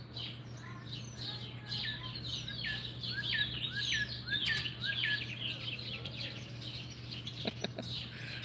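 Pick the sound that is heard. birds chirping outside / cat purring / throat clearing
birds chirping outside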